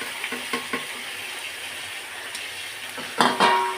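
Sliced eggplant and chopped tomatoes sizzle in a pan for a tomato-eggplant chutney, a quiet steady fry with a few soft stirring taps, then a louder burst of hissing near the end.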